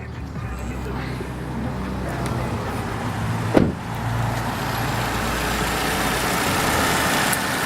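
A 2012 Toyota Camry LE engine runs smoothly and quietly at a steady idle, a low even hum throughout with one brief louder knock or sweep near the middle.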